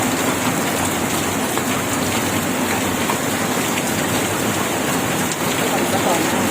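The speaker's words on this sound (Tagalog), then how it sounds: "Malakas ang rain, malakas ang rain." Heavy rainfall pours down in a dense, loud, unbroken hiss that stays steady throughout, with faint voices in the background.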